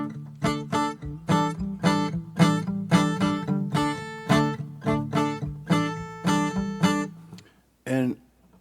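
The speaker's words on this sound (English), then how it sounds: "I started strumming a little pattern." Acoustic guitar strummed in a short repeating pattern, steady rhythmic chord strokes ringing close and clear, a final chord after a brief pause.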